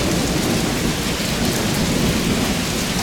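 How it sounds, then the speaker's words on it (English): Heavy rain pours steadily during a severe thunderstorm in Champaign, with a continuous low rumble of thunder underneath, loud and close, and no voices. "Now we got this other storm coming through with a severe storm warning."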